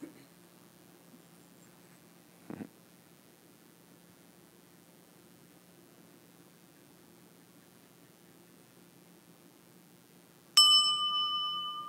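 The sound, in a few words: meditation bell rung to start a session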